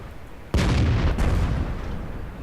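A tank cannon in World of Tanks fires at an enemy T-34 with a sudden loud boom, then a rolling rumble fades over the next two seconds.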